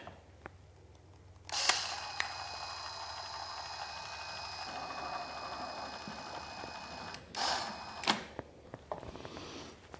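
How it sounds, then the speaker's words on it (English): Caulk being run along one edge of a rebuilt table saw, with a hand caulk gun giving a few loud, close mechanical clicks and squeezing hisses between stretches of steady workshop hum, and no speech. "Now to add some caulking down here on one edge."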